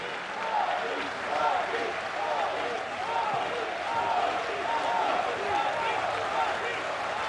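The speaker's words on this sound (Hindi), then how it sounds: "आप सभी अपने स्थान पे खड़े होकर तालियों के साथ उनका स्वागत करें" A large standing audience applauds to welcome Prime Minister Narendra Modi at the Surat Diamond Bourse inauguration, a dense, steady wash of clapping that carries on throughout at an even, loud level.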